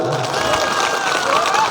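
A crowd at an election rally on the RKI ground in Kailashahar applauds in a steady, dense wash of clapping with background murmur, loud and continuous throughout.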